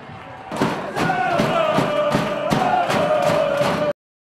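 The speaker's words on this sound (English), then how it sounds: "much to the jubilation of a vocal crowd" A vocal football crowd at a Basingstoke Town match roars after a second goal, the loud cheering rising abruptly and sustained, punctuated by rhythmic thumping beats.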